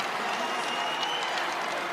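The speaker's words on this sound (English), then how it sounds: "Want some noise from the crowd here at Eagle Bank Arena." Sustained roar of a basketball crowd inside Eagle Bank Arena during a George Mason versus VCU game, a dense, steady wash of cheering and applause filling the whole two seconds at high level.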